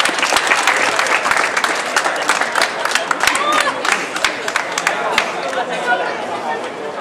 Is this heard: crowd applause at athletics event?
yes